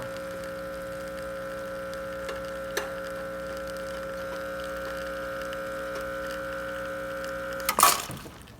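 An Expobar espresso machine pours a shot at 10 bar: a steady pump hum with faint ticking, ending with a short burst of hiss or clatter.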